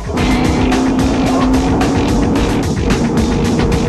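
A Dakar rally car races flat out across hard-packed desert ground, its engine roaring loud and close with a steady droning note and a continuous rush of tyre and gravel noise, no voices heard.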